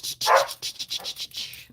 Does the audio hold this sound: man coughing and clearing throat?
no